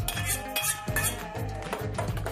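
A utensil stirs lemon juice and gelatin into mango purée, with close, repeated scraping and clinking against the container in an uneven rhythm.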